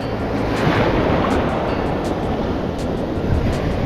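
Ocean waves break and wash on a shoreline at a shelling beach, a loud continuous roar of surf and foam with wind noise against the microphone, no speech.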